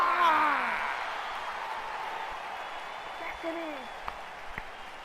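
Steady crowd applause fills a wrestling video game arena, a dense, even wash of clapping with a few faint whoops standing out, continuing for several seconds with no speech.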